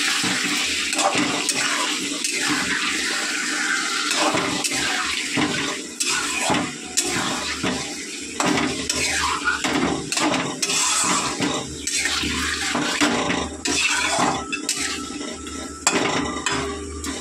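Meat fries in a pan with a steady loud hiss, broken by frequent scraping and clinking strokes as it is stirred, close and continuous throughout.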